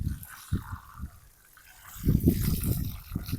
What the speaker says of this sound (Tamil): இதுக்கு தண்ணி ஊற்றுவோம்.